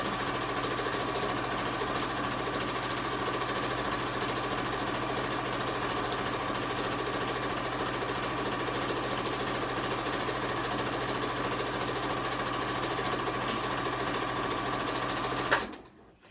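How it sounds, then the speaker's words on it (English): A sewing machine running steadily as it stitches a fabric pillowcase seam, a continuous even mechanical whir and rapid needle clatter for about fifteen seconds, close and loud, then stopping abruptly. "so I just sew right off the edge"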